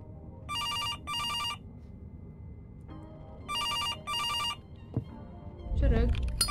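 A telephone rings in two paired bursts of bright, electronic trilling tones separated by a pause, loud and close, followed by a thud and rustling movement near the end.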